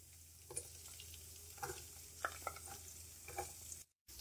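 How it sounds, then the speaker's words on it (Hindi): Roughly chopped onions frying lightly in a pan, giving a soft steady sizzle with a few scattered stirring clinks and scrapes, moderately close and without talk, ending in a brief cut of silence. "प्याज को हम हल्का सा फ्राई करेंगे, बहुत ज्यादा फ्राई नहीं करेंगे।"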